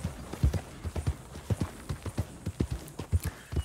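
Horse hooves clip-clop steadily on the ground in Red Dead Redemption 2, a clear, fairly close walking rhythm of repeated hoof strikes with no talking over it.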